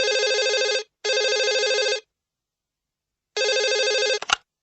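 A telephone rings in three bursts of bright electronic trilling, two back to back and a third after a pause, cut short by the click of the receiver being picked up; no one talks.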